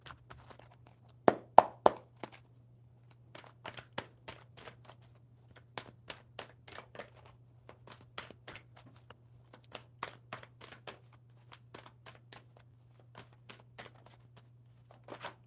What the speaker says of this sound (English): One more good shuffle and we will see what card falls out.